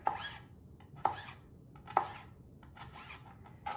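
Knife cutting jicama into thin matchstick slices on a board, three or four distinct crisp chops about a second apart over a quiet background.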